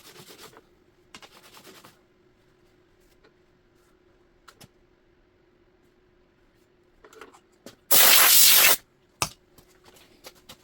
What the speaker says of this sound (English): I'm going to try to clean it with some rubbing alcohol, see if that takes those smears off.